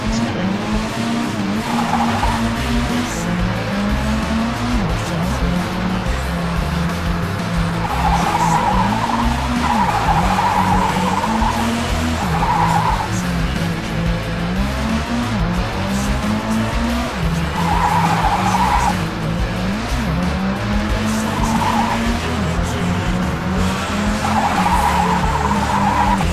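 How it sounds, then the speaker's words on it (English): Race car in a Unity racing video game, its engine droning and revving steadily while tires squeal and skid repeatedly in long loud bursts, continuous and close with no talking. "you can hear how the engine revs, it goes through"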